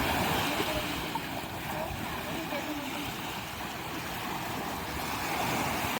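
A boat rides across the water at sunset on the Colombian coast near mangroves, giving a constant loud rush of wind, engine and splashing water that holds steady throughout.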